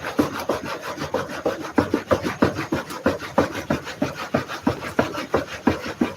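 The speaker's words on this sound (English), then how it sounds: "This is 1/4 inch sift that I'm doing right now." Compost worm castings being sifted by hand through a quarter-inch screen, giving a steady rhythmic rubbing and scraping about twice a second, close and fairly loud, with no talking.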